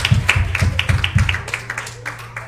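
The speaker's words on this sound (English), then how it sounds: "Give the Lord a big old hand clap tonight" A church congregation claps in unison at an evening service, about ten sharp, evenly spaced claps that fade near the end, with a low hum underneath.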